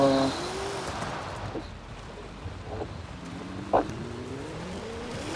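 Engine of a car in the Forza Horizon 5 racing game revving and rising in pitch in short surges, moderately loud and steady throughout, with a sharp brief knock near the end.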